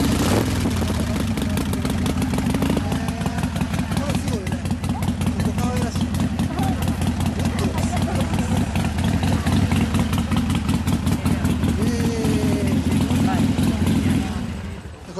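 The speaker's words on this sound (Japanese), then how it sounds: "もうノーマルでもエンジン音は好きなんだよね。" A stock Harley-Davidson motorcycle idles close by with a loud, steady, loping thump that keeps an even rhythm for about fifteen seconds, while people talk over it.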